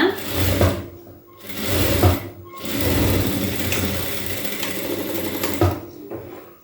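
A sewing machine stitches blouse fabric in a tailoring class, running in several loud, close bursts of rapid chattering with brief stops between them.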